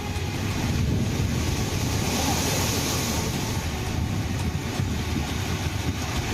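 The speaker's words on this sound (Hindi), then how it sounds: "समंदर में 10 फीट से ज्यादा ऊंची लहरें उठ रही हैं।" High sea waves over ten feet tall churn during Cyclone Tauktae, a loud continuous roaring wash blended with wind buffeting the microphone, steady throughout with no speech.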